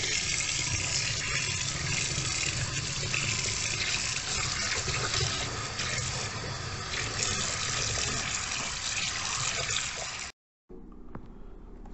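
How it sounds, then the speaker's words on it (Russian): Cold water runs steadily from a tap over fish being rinsed, a loud, continuous gushing with faint splashing, then cuts off briefly before resuming more quietly. "Промываем хорошенько, прям хорошенько, холодной водой."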